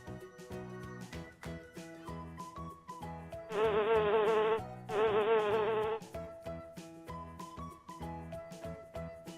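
A bee buzzes in two sustained, fairly loud droning bursts in the middle, set against background music in a children's animal-sounds lesson.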